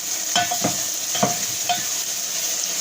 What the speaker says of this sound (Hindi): थोड़ा सा इसके अंदर ऐड कर देंगे टोमेटोज। इसे भी फ्राई करेंगे हम